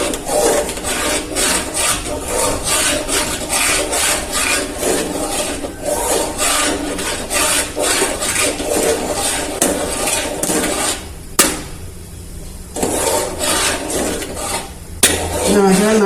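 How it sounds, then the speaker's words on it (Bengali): Metal spoon scraping and clinking steadily around a pot while about a litre of milk is stirred, a loud continuous rasping rhythm with two brief pauses near the end. "প্রায় 1 লিটার দুধে অল্প সময়ের জন্য একটু নাড়াচাড়া করতে হবে।"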